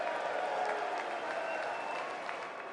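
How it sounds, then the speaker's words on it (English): Members of Congress standing and clapping for the men's Olympic gold medal hockey team, a dense, steady wash of applause from a large crowd filling the room. "all of the entire Congress stood up and clapped"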